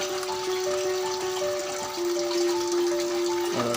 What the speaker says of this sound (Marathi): पडत आहे पाणी